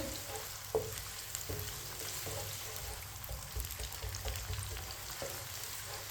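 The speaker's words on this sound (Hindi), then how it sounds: "प्याज को हल्का सा ब्राउन कर लेंगे" Finely chopped onion frying in ghee over medium heat for pulao, a quiet continuous sizzle with occasional soft spoon taps as it is stirred, no voices.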